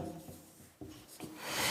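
Chalk scrapes across a classroom board in a few short, close strokes, soft rubbing sounds with small taps between them.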